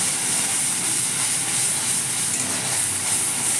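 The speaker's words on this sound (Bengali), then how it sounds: "ওই তেলের মধ্যেই লঙ্কা বাটা ধনেপাতা বাটা আর নারকেল বাটা দেওয়া হলো দিয়ে ভালো করে ভেজে নেওয়া হবে" Chili, coriander and coconut paste fries in hot oil for a long bean curry, giving a steady, continuous sizzling hiss with no talking.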